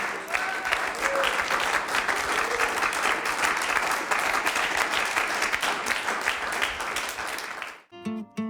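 An audience applauds at an intimate concert with steady, dense clapping that runs for several seconds before cutting off abruptly.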